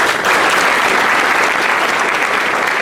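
An audience at a military academy Founder's Day ceremony applauding, a dense, loud, continuous wash of many hands clapping with no pauses.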